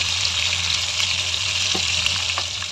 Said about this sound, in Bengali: ভাজছি যে সেটাই একটু ভিডিও করে নিলাম